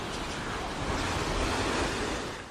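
Strong typhoon winds and surf batter Rota Island in the Northern Mariana Islands, a steady loud roar of broadband noise with wind buffeting the microphone throughout, easing slightly at the end.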